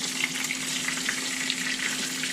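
Salmon patties frying over medium heat in a pan, a steady close sizzle with faint pops throughout.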